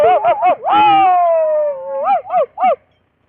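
A storyteller's voice imitates a dog howling during a Tamil villu paattu Ramayana performance: a few short yelping calls, then one long, loud, slowly falling howl, followed by three more short howls, close and alone.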